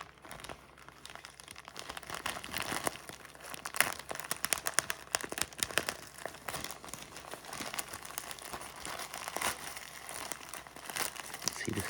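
Plastic packaging of bladder control pads being torn open and handled, a steady close crinkling and crackling that continues for the whole stretch at a moderate level.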